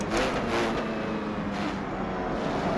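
A 1939-era race car engine revs high at Spa-Francorchamps in a racing game, a loud, sustained buzzing drone with gentle pitch wavering.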